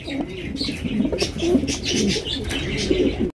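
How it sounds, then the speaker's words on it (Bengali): Large Bombay pigeons coo at a pigeon farm, repeated soft throaty calls close by with light chirps and background bustle. "বিশাল বড় সাইজের বোম্বাই কবুতর ভাই"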